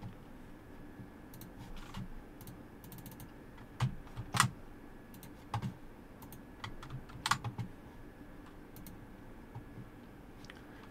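Quiet computer keyboard typing, scattered keystrokes in irregular short bursts close by, with a faint steady hum underneath and no voices.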